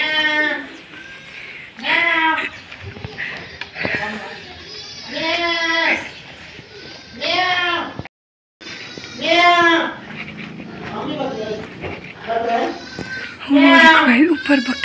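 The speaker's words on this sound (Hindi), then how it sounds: "भाई ऊपर बकरी है शायद" Small goat bleating near a house in rural India, several wavering cries in separate bursts across the stretch, fairly close, with someone talking in between.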